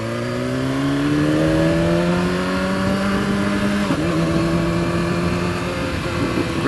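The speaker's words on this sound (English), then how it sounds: "Quick shifter up and down." A 2015 BMW S1000RR sport motorcycle with a quick shifter, its engine note climbing loud and steady, then a sudden instant shift and a lower continuing drone, recorded up close.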